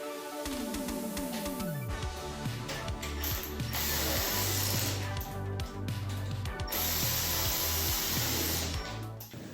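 A ratchet wrench tightens bolts during assembly of an Electro & Co. ETM electric pit bike, producing a fast, continuous clicking ratchet that runs nearly the whole time, loud and close with brief pauses between strokes.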